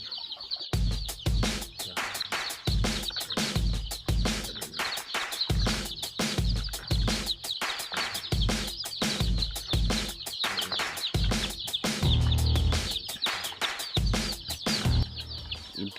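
Brooder chicks on a poultry farm keep up a dense, continuous chorus of high peeping with soft thumps and handling noises underneath, close and fairly loud throughout.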